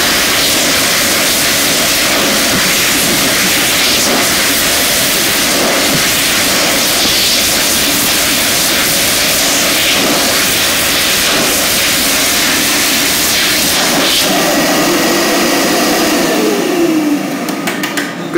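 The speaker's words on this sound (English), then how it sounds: "Good dryer." An electric hand dryer at Kew Gardens runs as a loud, steady blast of air, a continuous broadband roar that holds nearly unchanged for about seventeen seconds before cutting out near the end.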